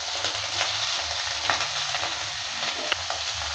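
Broccoli fries in hot mustard oil with a steady, close, loud sizzle, broken by a few sharp clicks of a spatula stirring the pan.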